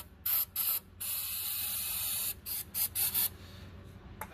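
Short hissing spurts, then a longer steady spray, followed by several more brief bursts as fuel is squirted into a Volkswagen Bug carburetor, close and fairly quiet.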